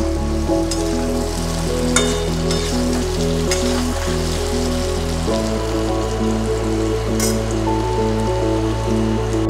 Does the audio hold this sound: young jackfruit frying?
yes